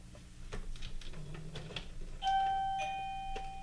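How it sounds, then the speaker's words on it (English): A doorbell chimes loudly in two sustained tones that ring out and fade, following some quiet tapping and shuffling. "who's ringing my doorbell?"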